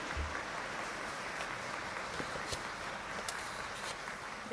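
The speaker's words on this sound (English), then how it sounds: "A big round of applause." Audience at the 2024 Samsung Ho-Am Prize award ceremony applauds in a hall, steady soft clapping from a seated crowd heard from a distance, fairly quiet and even throughout.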